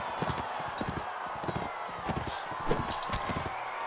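Horse hooves in the Mount & Blade video game, a fast irregular clatter of clip-clop hits running steadily through the whole stretch amid battle noise, moderately loud.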